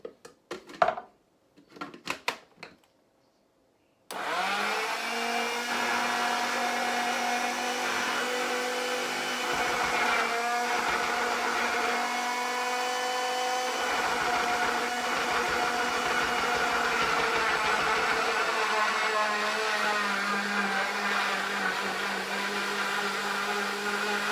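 A kitchen blender runs steadily and loudly, crushing strawberries with a little water for ice cream, after a few brief clicks and a pause at the start.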